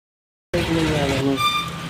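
A 70cc motorcycle engine catches after a kick start and runs steadily from about half a second in, close and fairly loud, with a harmonic idle hum.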